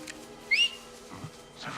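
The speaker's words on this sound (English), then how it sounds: "Maybe I'll whistle." A single short, rising whistle from a character in a stealth video game, quick and fairly faint against soft background game ambience.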